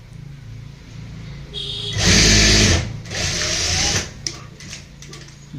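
Sewing machine stitching a tulip salwar, a low mechanical whir that speeds into a loud, fast run of stitches for a couple of seconds, then slows and stops with small clicks, close by.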